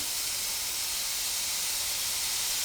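Raw lamb mince sizzling in a hot pan as the fat renders, a steady bright hiss that holds evenly throughout without pause, close and moderately loud.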